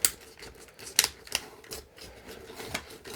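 A 1996/1998 Hot Wheels NASA shuttle and Mars rover action pack blister being cut open: a sparse, irregular run of sharp plastic clicks and snips close by.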